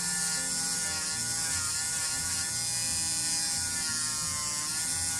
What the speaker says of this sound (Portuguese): Pode passar de uma vez a broca, só tomando cuidado para não usar uma velocidade muito alta.